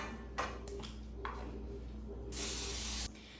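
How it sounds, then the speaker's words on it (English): Cooking spray is spritzed onto an 8-inch baking pan in two short hissing bursts and then one longer spray, faint and close, with no talking. "spray an 8-inch pan"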